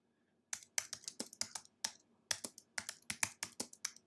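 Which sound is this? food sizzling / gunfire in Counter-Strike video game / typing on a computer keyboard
typing on a computer keyboard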